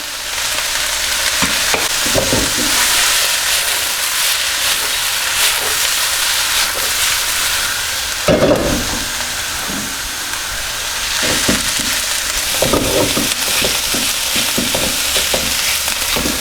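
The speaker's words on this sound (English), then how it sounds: "just from the sound of the wok, you can hear how much this wok has actually cooled down" Loud, close sizzling of chips stir-frying in a cooling wok, with repeated scraping and tossing, the hiss swelling and easing over time.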